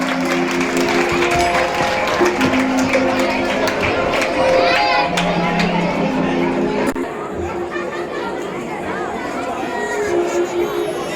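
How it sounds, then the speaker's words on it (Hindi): An audience at a school skit performance claps amid lively chatter and children's voices, the applause mixing with crowd noise and speech over a long, busy stretch. "आप लोगों की जोरदार ताली बजाइए ना"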